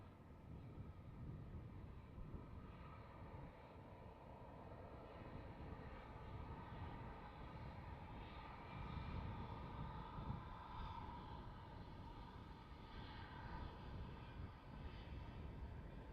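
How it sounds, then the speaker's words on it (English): Distant, steady jet roar from an Air Baltic Airbus A220-300 on the runway at Amsterdam Schiphol at night, a broad continuous rumble with faint whining tones, swelling slightly midway. "Nice Air Baltic A220 300."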